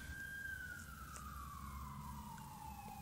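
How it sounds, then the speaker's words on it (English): An emergency vehicle siren wails nearby in one long, steady, slowly falling tone, sounding continuously throughout at a moderate level over low background rumble. "What kind of siren do you think that is? You think it's ambulance, fire, police?"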